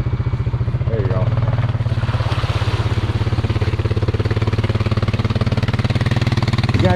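A Can-Am off-road vehicle engine pounds in a fast, steady low rumble as it churns through a deep, greasy mud hole, loud and close, with voices talking over it.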